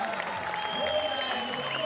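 A crowd applauds at the 2018 Red Bull Cliff Diving World Series in Sisikon, Switzerland, giving a steady outdoor roar of clapping under voices.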